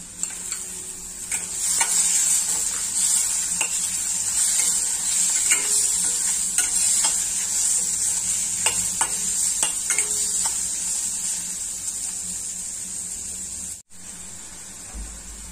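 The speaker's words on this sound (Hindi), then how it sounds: "ती हांव मातशें फ्राय जालें म्हणटी तितून आमी सुंगटां घालून मातशें फ्राय करूया." Prawns fry in a pan for Goan prawn caldine, a continuous bright sizzle with scattered crackles and pops, close and steady, briefly cutting out near the end, with no speech.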